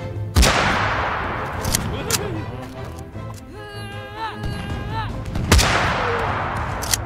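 Loud booming cannon blasts in the video game Totally Accurate Battle Simulator, one at the start and another later, separated by clanking and a shrill rising tone, with a voice briefly heard.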